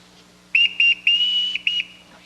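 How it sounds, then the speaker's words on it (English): Shrill whistle signal on a stage, blown in a rhythm of four sharp blasts, the third held longest, loud and close against a quiet, faintly humming background. "Everyone in this house answers to a whistle."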